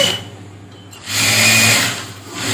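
A sewing machine runs steadily while stitching patchwork onto a blouse sleeve, a close whirring motor hum that dips briefly and then surges louder again, with no talk over it.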